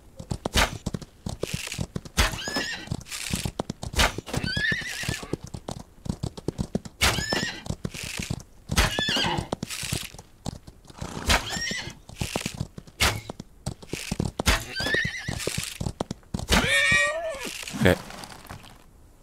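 In the Old West video game Outlaws of the Old West, a horse gives repeated whinnies at irregular intervals. Sharp hoof clops and clicks fill the gaps, all fairly close, with occasional faint voices.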